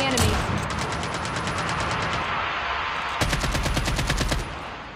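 Automatic gunfire from a COD Mobile battle royale match, dense rapid bursts at close range in two stretches separated by a brief lull, with a voice speaking over the shooting.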